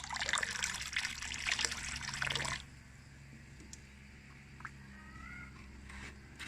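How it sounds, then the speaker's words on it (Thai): Homemade liquid fertilizer poured from a watering can over vegetables, a loud close splashing stream for about two and a half seconds that then stops, leaving faint drips and quiet background. "ใช้บัวค่ะตักรดราดผักที่เราต้องการให้ปุ๋ยเขาในสัปดาห์ละครั้งค่ะ"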